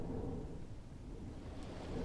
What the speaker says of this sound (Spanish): en mi habitación se oyen más los truenos